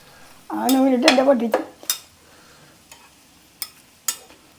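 Egg frying in a pan: a soft sizzle with a few scrapes and clinks of a utensil against the pan, and a brief voice-like sound near the start.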